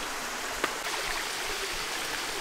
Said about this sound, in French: La cascade, elle est au fond là-bas